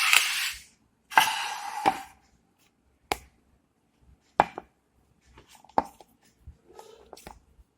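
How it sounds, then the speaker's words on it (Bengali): Knife or cutter chopping stiff flour dough into portions for sweet goja, a series of sharp, isolated thuds and taps spaced a second or so apart, close and fairly quiet. "আমি এখন এটাকে লেচি কেটে নেব।"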